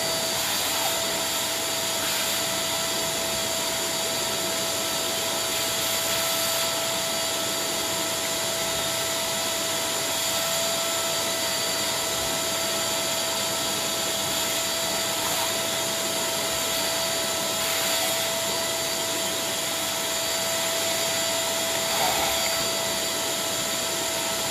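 A vacuum hose sucks debris out of the intake and exhaust manifolds of a 1954 Ferguson 20 TEF diesel tractor, a steady loud whooshing drone with a constant whine that runs without a break and carries no talk.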